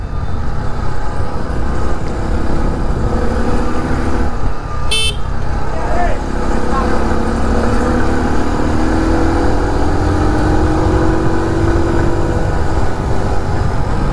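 A 2023 TVS XL 100 moped runs at full throttle along narrow streets, its small engine droning steadily and loudly under heavy wind and road noise, with a brief horn toot partway through and a voice speaking over it.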